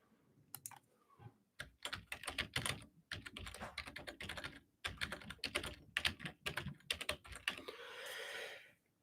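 Fingers type a website address on a computer keyboard in a quick, steady run of crisp close key clicks with a few brief pauses, ending in a soft rustle.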